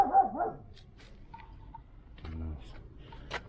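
A dog barks a few times, short yips and barks over a quiet outdoor background, with faint other noises scattered around.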